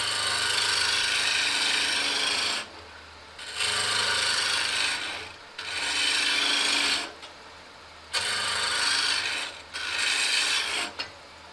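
A gouge cuts a wooden spindle on a lathe for a birdhouse finial, giving a close, loud rasping shave in five bursts of about two seconds each, with the lathe's hum in the pauses.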